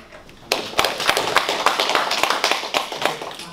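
Lecture audience clapping at a Korean cultural centre talk on Hongshan culture, a scattered round of hand claps that starts abruptly and carries on fairly close with uneven, overlapping taps.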